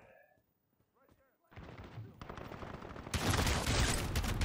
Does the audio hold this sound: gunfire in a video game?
yes